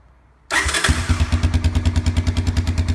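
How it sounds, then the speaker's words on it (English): A Honda ATC250ES engine with a newly installed oil cooler starts abruptly out of near silence, then settles into a steady, close, loud, rhythmic chugging idle. "Crank it up for you so you can hear it running."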